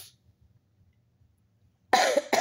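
Near-silent quiet, then a single harsh cough close by from a person sick with fever and cold, followed quickly by a shorter second cough.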